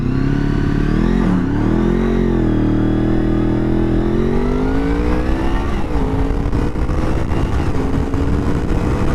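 A youngtimer motorcycle launches hard from a standing start, its engine close and loud, revving up through rising pitch with a brief dip at a gear change before climbing steadily again, with no speech.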